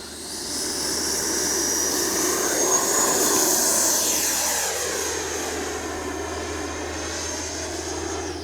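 An FMS Avanti S 90mm electric ducted-fan RC jet whooshes past overhead, its high-pitched whine swelling loud and then fading with a doppler sweep, with no talk.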